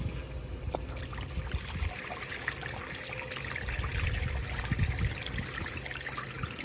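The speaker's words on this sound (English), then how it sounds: "here's another flush" A 1954 Standard Chinal urinal flushes, with water rushing and trickling steadily through the porcelain fixture, a continuous moderate wash that swells slightly partway through.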